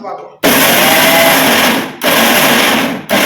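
An electric mixer grinder roars loudly as it grinds dried red chillies for spice powder, running in two long bursts separated by a brief stop.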